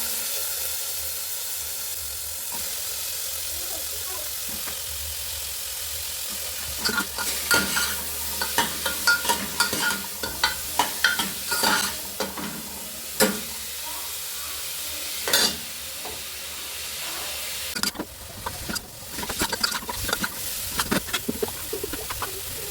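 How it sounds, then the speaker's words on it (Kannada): Sliced onions and beetroot frying and being stirred in a pan, a steady sizzle running throughout with scraping spoon strokes growing frequent and louder in the second half, close by. "ಚೆನ್ನಾಗಿ ಫ್ರೈ ಆಗ್ತಾ ಇದೆ ನೋಡಿ. ಇವಾಗ ಸ್ವಲ್ಪ ಫ್ರೈ ಹಾಕ್ಬಿಟ್ಟು ಬೀಟ್ರೂಟ್ ಹಾಕ್ಕೊಂತೀನಿ ನಾನು."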